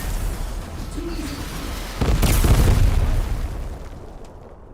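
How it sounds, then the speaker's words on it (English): Ammunition explosion in a video game, a single low boom bursting in at mid-clip and rolling on for about two seconds over a steady game background before fading. "Was that an ammunition explosion?"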